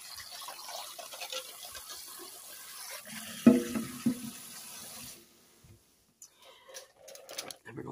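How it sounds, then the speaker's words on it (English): Cold water runs from a tap into a pot of hard-boiled eggs for about five seconds, then stops, leaving faint handling noises. "Now I'm going to put some cold water in here."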